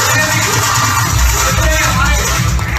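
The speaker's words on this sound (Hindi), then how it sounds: "मैं चाहूंगा इनके लिए भी जोरदार तालियां" A large audience at a business speech event in Delhi applauds loudly for a leader, with dense, continuous clapping filling the whole moment at a steady, high level.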